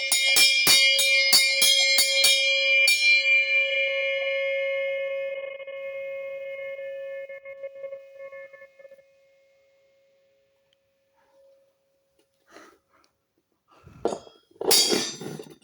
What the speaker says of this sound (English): this one is my house bell, but it's fifth and the largest and the tallest bell.